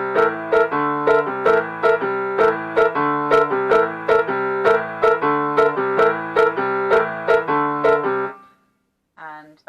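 Jazz piano playing an advanced exercise in a 3/4 feel, with steady repeated chords in a lilting triple rhythm, loud and close, ending abruptly near the close with a brief moment of silence.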